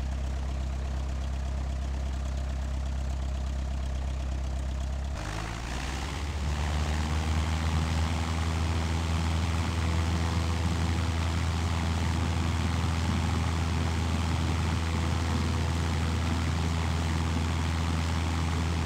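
Propeller airplane engine in a mobile flight simulator game idling steadily, then smoothly throttling up about five seconds in to a louder, higher drone for taxiing, holding constant afterward.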